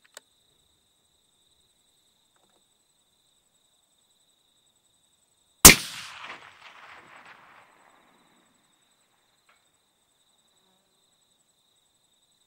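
A single sharp rifle shot fired at a long-range target cracks loudly and decays in a short echoing rumble, surrounded by near silence with faint crickets chirping.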